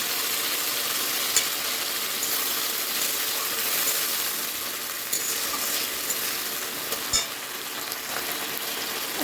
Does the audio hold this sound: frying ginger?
yes